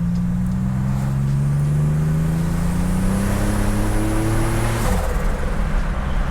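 A turbocharged 1987 Buick Grand National accelerates hard in second gear at about three-quarter throttle, its engine tone climbing steadily and loudly for about five seconds, then dropping sharply at a shift or lift, heard from inside the car.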